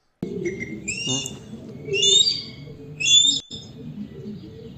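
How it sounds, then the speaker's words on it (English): A recorded hawk call played back through a speaker: three high, screechy calls spaced about a second apart, rising out of a low background rumble. "Hawk calls sound a lot alike."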